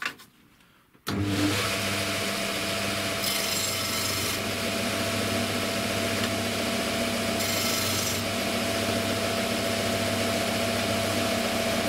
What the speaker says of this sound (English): so I'm going to take it to my sander,